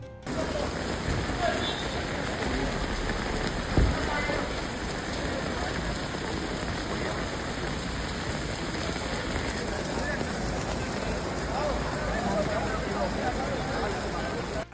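Steady rain pours down during an outdoor political campaign event, a dense continuous hiss filling the scene at even strength throughout, with faint crowd murmur mixed underneath.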